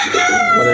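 A rooster kept indoors crows loudly and close, a short sustained strained call with no voices over it.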